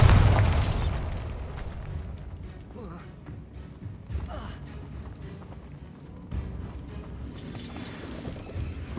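A Bombarda blasting spell goes off in Hogwarts Legacy, a loud booming burst at the very start that rolls into rumbling debris, with further thuds and crackles later.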